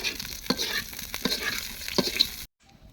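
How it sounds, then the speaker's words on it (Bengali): Fish frying in a pan for a red Japanese fish bhuna, giving a steady close sizzle with scraping stir clicks, then cutting off abruptly near the end. "তো সবগুলো মাছ ভাজা হয়ে গেছে"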